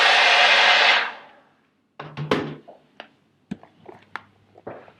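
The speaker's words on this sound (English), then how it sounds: "Good morning hair dryer." A hair dryer roars steadily for about a second, then cuts off, followed by scattered clicks, taps and light knocks around a small room.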